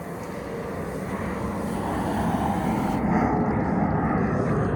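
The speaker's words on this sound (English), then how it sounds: "Why do they always launch those planes when we start videoing?" A plane passes overhead with a continuous broad engine roar that slowly grows louder, steady and droning, with no talk.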